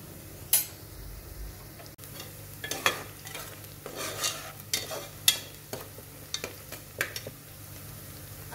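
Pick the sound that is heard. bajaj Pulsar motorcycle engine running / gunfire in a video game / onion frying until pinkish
onion frying until pinkish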